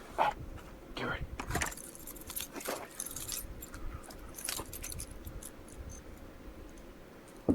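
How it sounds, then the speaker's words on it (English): Keys jangle in a hurried grab at a woodland campsite at night, a light metallic rattle in several quick bursts over a quiet background, with faint voices briefly audible. "Get my keys."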